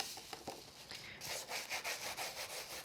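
Dry rubbing and scraping on card stock as a burnishing tool presses a die-cut embellishment into place, a steady run of soft scratchy strokes, close and fairly quiet, with no voices.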